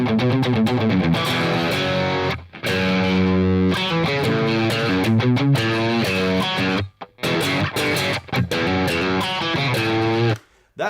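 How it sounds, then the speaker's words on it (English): A Telecaster electric guitar played through a plexi amp model with no effects. Crunchy, overdriven chords and picked riffs ring out loudly in phrases, with short pauses between them. "So what you're hearing right now is no effects, just an amp model."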